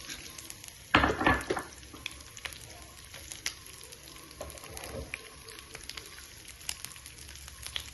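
Coconut pieces fry in hot oil, crackling and spluttering softly with a brief louder burst of sizzling at first, then scattered faint pops, close by.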